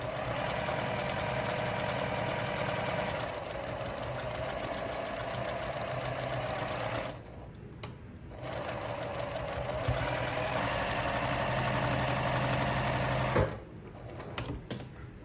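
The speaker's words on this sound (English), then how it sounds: "this is the last seam I'm sewing up right now" A domestic sewing machine stitches the final seam of a quilt block in a steady, close whirring run, pausing briefly twice before continuing.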